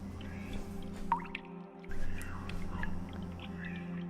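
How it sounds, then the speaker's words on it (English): Dripping water effect in an indie video game, a few soft, faint drip plinks over a quiet, droning ambient game backdrop. "Oh, I know that little dripping sound."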